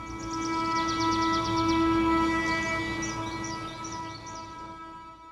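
Train with a steady, sustained tonal hum over a rumbling background, while bird chirps sound intermittently above it.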